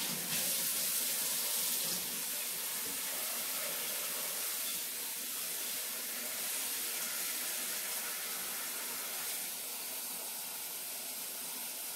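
Tap water pours steadily into a pot to cover saltfish, a constant bright hiss and splash with no break, close and fairly quiet.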